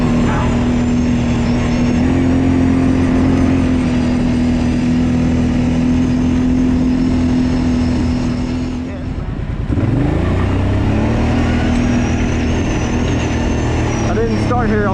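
Kawasaki Brute Force 750 ATV fitted with Elka shocks, ridden on a trail: a loud, steady engine drone that dips briefly as the throttle eases, then climbs again with rising revs, close to the machine.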